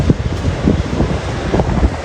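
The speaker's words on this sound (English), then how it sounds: "It's windy." Wind blusters steadily into the microphone at a cruise port in Honduras, a loud, continuous rumble with gusty swells and no talk.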